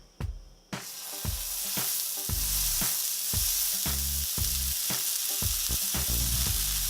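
A burger hits hot olive oil in a pan and bursts into loud, steady sizzling and frying, with repeated sharp clicks and spatters popping through the hiss up close.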